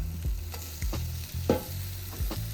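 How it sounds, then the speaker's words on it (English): Tortilla chips and mozzarella cheese heating on a Pit Boss griddle, a steady close sizzle with low rumbling hum and a few sharp scrapes and taps of a utensil spaced through it, no talking. "I'm gonna put my chips back onto the griddle and I'm gonna add my mozzarella cheese"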